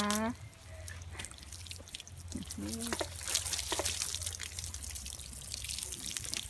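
Water running from a shower, a steady splashing hiss with drips that continues under a voice for the whole stretch.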